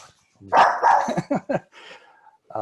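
A dog barks several times in a quick, loud burst close by, with a few sharp yelps trailing off before another short bark at the end.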